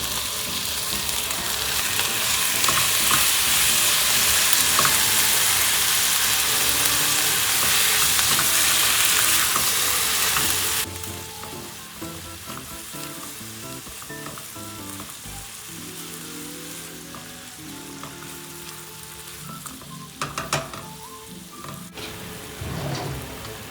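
Ground beef frying in oil in a pan, a loud steady sizzle for the first ten seconds that drops to a quieter crackle with scattered pops and scraping afterward.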